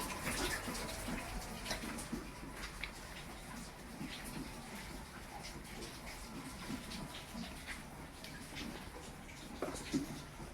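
Rainwater streaming and dripping steadily into a soaked kitchen, a continuous broad wash of running water with scattered drips and splashes, close and constant throughout.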